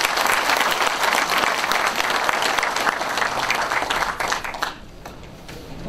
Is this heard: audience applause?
yes